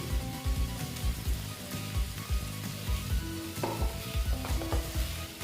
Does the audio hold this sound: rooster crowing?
no